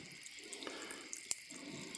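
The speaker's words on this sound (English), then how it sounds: "And we can hear water circulating." Coolant water circulating in the cooling system of a 454 engine fitted to a hearse, with the thermostat open: a soft steady watery gurgle and trickle, close by and faint, with one brief sharper splash.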